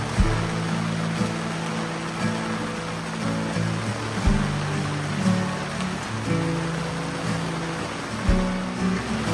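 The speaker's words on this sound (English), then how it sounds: "The wind, you can hear the wind in the trees and stuff like that." Steady wind rushes through trees at a conservation area, a broad, continuous roar with gentle swells and no voices, lasting throughout.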